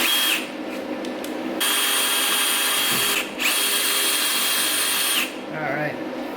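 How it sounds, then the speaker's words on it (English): A power drill bores a small pressure relief hole through the steel end plate of a tube, whining loudly and close in several bursts with short pauses between them. "I'm going to drill just in the plate in the end of the tube so I can put a little pressure relief hole in there"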